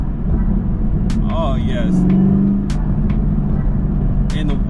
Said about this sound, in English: And the winding of the supercharger, a whole lot more noticeable than the Z06